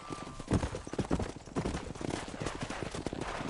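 Horse hooves clip-clopping in the video game Red Dead Redemption: a steady rhythmic run of close hoofbeats over a busy outdoor background, fairly quiet overall.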